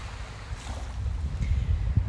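Waves washing onto the shore of Lake Superior, a low steady rumble with soft rolling surges and wind across the microphone, no voices present.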